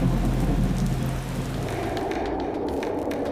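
Heavy rain pours steadily in Ziro, Arunachal Pradesh, while thunder rumbles low and loud at the start and then eases into a continuous downpour roar.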